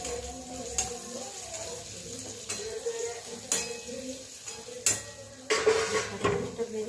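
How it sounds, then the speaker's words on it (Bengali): Gram flour (besan) batter being mixed in a bowl, with irregular clinks and taps of a utensil against the bowl and a few sharper knocks spaced through the clip. "এই যে বেসনটা এখন গুলিয়ে নিই ভালো করে।"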